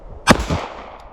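A single sharp gunshot from a Smith & Wesson Bodyguard 2.0 pistol at a 50-yard range, with a loud crack followed by a brief echo that fades within a fraction of a second.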